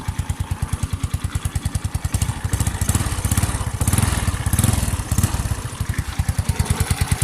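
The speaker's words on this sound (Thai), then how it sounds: "อโอเคเดี๋ยวสตาร์ทเครื่องให้ฟังนะครับ สตาร์ททีเดียวติดนะครับผม" A Honda Wave 100 motorcycle engine fires on the first try and settles into a steady, rapid idle. The putter stays loud and close for the whole stretch, with only a slight rise in the middle.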